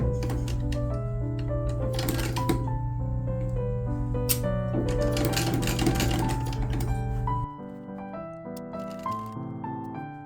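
A sewing machine stitching a collar onto a Regency-era garment, running steadily at close range with a rapid mechanical rattle, then stopping abruptly, leaving quieter handling noises.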